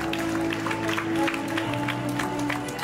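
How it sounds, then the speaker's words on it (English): Audience applause at a preschool graduation ceremony, a steady wash of many hands clapping under a sustained musical tone, moderately loud and continuous throughout. "Please keep the round of applause going."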